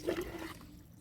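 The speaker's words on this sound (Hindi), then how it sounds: "आधा मग का पानी आप डाल सकते हैं इसमें" About half a mug of water is poured onto a newly planted ixora in soil, a brief close splash that fades within a second.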